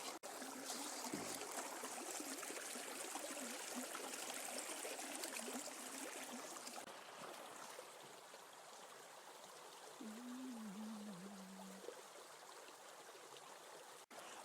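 River water running through a Dream Mat sluice box, a steady close rushing trickle that continues evenly throughout, with a faint tonal hum partway through.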